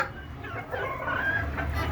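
Laying hens and a rooster cluck at low volume, a soft continuous murmur of clucks throughout.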